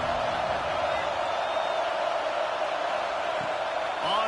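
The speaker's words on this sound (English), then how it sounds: "Man, this crowd really affecting the football game." Home crowd at an Alabama football game, a loud continuous roar of cheering and shouting that fills the whole stretch at steady volume, with no clear break or rise.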